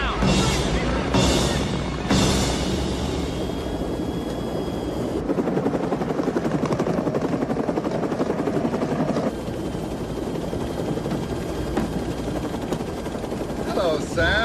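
A helicopter's rotor chops steadily and loudly overhead throughout, punctuated early by sharp gunfire-like bursts, with a voice speaking briefly beneath the din.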